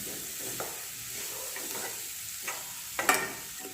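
Salt and slit green chillies are stirred into a fish head curry with banana flower, giving soft scraping and light sizzling over a steady hiss, with a sharper scrape near the end.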